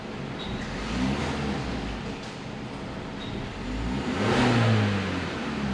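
Engine of a 2023 Genesis GV70 revving up with a fault that triggers warning lights, a loud steady roar that swells toward the end, close by with no talk.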